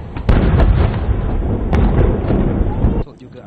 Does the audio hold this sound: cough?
no